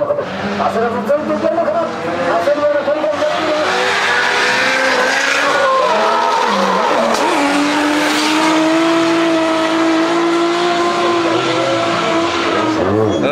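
A race car drifts out of a chicane, its engine loud and close as the tires skid and squeal continuously for several seconds, the pitch wavering through the slide.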